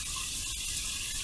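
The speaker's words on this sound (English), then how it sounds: "you want to turn on some cold water" Cold water runs steadily from a tap at a bathroom sink during a shave, a brief, even hiss of flow with no pauses and no voices.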